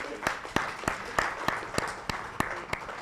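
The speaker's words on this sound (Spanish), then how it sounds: "Eso merece un aplauso." A small audience at an open-innovation panel event in San Martín claps in a sparse, rhythmic pattern, with distinct individual claps landing roughly every third of a second over a faint murmur.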